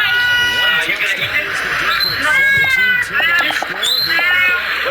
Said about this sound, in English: Someone is buying the cat now.